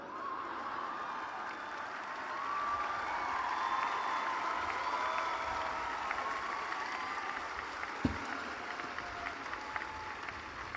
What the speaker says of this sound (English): There would be even more applause than you're giving me today.